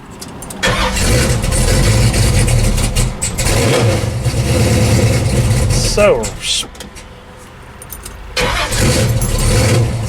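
A Pontiac 455 V8 running as it warms up, a loud steady idle rumble that dips briefly near the end before roaring back, with a voice talking over it.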